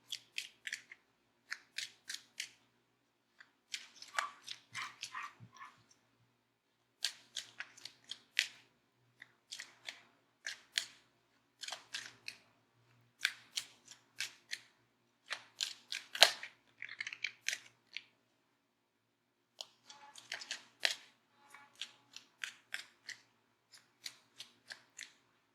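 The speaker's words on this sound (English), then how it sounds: "just a few seconds shuffling the cards" Repeated bursts of crisp riffling and snapping as a deck of tarot cards is shuffled, close up, with short pauses between each shuffle.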